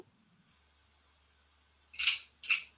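Two sharp metallic slide clicks about half a second apart, crisp and close, after a near-silent stretch with a faint low hum.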